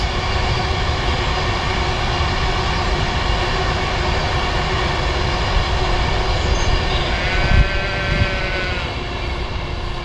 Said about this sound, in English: There's a train, bear with us.